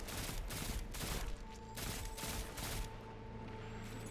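Rifle fire in the video game Destiny 2, a dense run of rapid gunshots that bursts and pauses over a steady game backdrop, loud and close.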